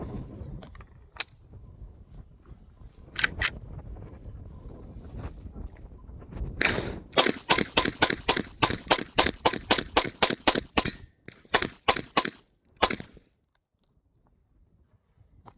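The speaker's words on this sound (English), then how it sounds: "All right, let's do a quick little mag dump on the Beretta." Beretta APX A1 9mm pistol fired in a rapid magazine dump outdoors, a fast string of sharp, loud close shots after a few scattered single reports, ending in quiet.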